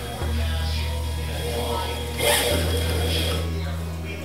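A Singer 128 treadle sewing machine runs as the treadle is pressed, giving a steady mechanical whir with faint ratcheting texture that starts, dips briefly and resumes, close and even in level.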